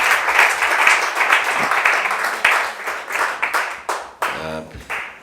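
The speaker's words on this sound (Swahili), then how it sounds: "tupigie Yesu tena makofi mazuri" Congregation at a church service claps in sustained applause, dense and fairly loud, breaking into a few sharper bursts of clapping near the end.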